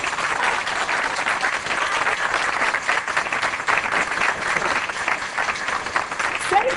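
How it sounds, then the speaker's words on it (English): An audience bursts into dense, sustained applause at a public meeting, many hands clapping steadily and fairly close throughout with a faint murmur of voices underneath. "applause till the end."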